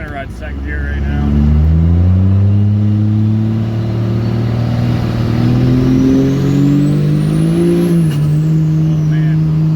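A Cummins diesel pickup with 5x.022 injector nozzles pulls hard in second gear, its loud droning engine rising steadily in pitch, with a faint whistle climbing above and a voice talking over it.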